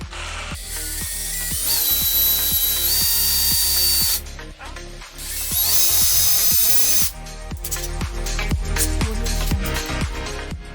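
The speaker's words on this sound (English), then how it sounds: "Once I have the two holes drilled, I'm going to take two screws and just thread them into these holes." Power drill boring two small holes in a torn pulley seal on a Porsche 911, with loud close whirring bursts of several seconds each, separated by brief pauses and ratcheting clicks.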